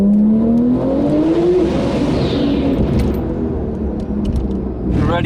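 A Miami blue 1500 bhp Porsche 992 Turbo S accelerating hard, its engine note climbing in a loud close rising pull, then settling into a heavy rumbling roar with brief tire noise.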